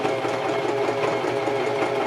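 A sewing machine runs a steady, continuous zigzag stitch through a water-resistant ice hockey skate boot cover, a close, even mechanical whir lasting throughout with no talk.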